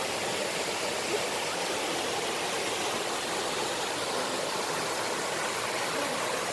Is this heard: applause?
no